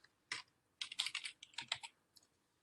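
Keystrokes on a computer keyboard, quiet and close, in short irregular bursts of clicks with brief pauses between, no voices present.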